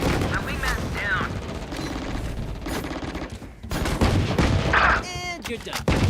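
Rapid gunfire bursts with sharp mechanical clicks and reload-like rattles ring out in a Valorant match, loud and dense over a busy game soundscape, with no clear talking.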